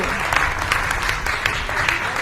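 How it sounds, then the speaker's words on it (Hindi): Audience at a Holi-season Hindi comic poetry gathering applauds loudly, a dense, fast patter of many hands with a few sharper claps standing out, continuous through the short stretch. "एक बार जोरदार तालियां बजाइए"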